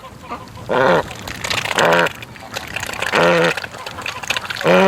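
A female breeder duck gives four loud, drawn-out quacks in a slow, irregular series, close by, with faint outdoor background noise between them.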